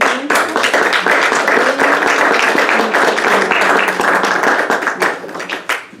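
A strong round of applause from an audience at a university event, sustained crisp clapping that holds steady for several seconds, then tapers off at the end.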